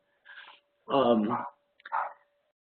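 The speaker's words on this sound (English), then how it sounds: "I apologize if you guys hear a barking dog in the back." A dog barks and whimpers in a few short bursts, fairly close, with quiet gaps between them.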